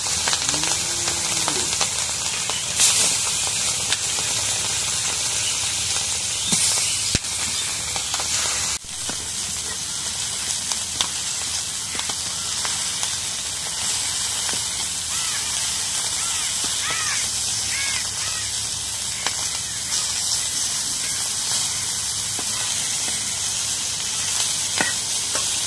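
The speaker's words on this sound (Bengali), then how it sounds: "এখন তেলটা গরম হয়ে গেছে, এখন মাছগুলো দিয়ে দিই" Fish frying in very hot oil, a loud, continuous crackling sizzle that holds steady for nearly half a minute, close up, with faint scattered background noises.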